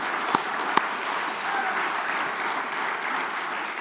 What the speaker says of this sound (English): let's have a round of applause for Paul Kervin.